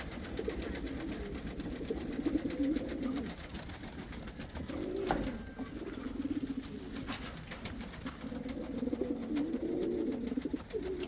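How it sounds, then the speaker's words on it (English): Pigeons kept in an outdoor breeding pair section coo in low, rolling bursts that come and go throughout, with a steady hum in the background. "Look at the birds when they're outside, guys."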